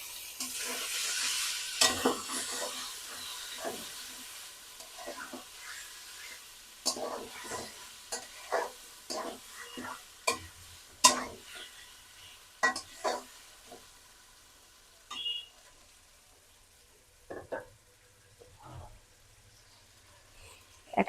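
Tomato cooks with beef in a pan, stirred repeatedly so that sharp scraping strokes break over a soft sizzle that fades toward the end, with brief light clinks.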